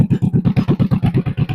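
A John Deere 420W tractor engine, abandoned for over 35 years, idles close by without a muffler, a loud, even, rapid chuffing beat of exhaust pulses.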